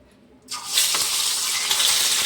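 Eggs are dropped into hot oil in a pan. After a quiet start comes a sudden loud, bright sizzle that holds steady and close to the end.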